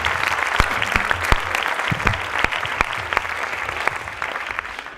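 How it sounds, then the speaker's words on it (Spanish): Audience at a conference round-table giving a short burst of applause, dense clapping from a moderate-sized room that thins out over a few seconds. "Bueno, por lo menos un aplauso."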